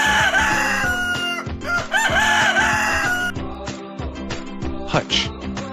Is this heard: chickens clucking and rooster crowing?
yes